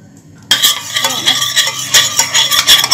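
A spoon stirring boiling baby porridge in a pot, scraping and clinking against the metal in quick repeated strokes, close and loud after a short quiet start, with faint bubbling beneath and no voices.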